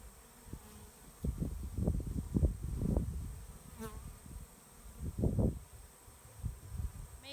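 A honey bee swarm being moved into a 10-frame Langstroth hive buzzes in uneven surges, swelling and fading as insects fly close to the microphone, with no voices.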